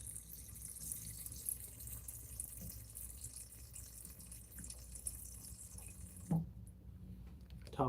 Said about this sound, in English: Top off that water.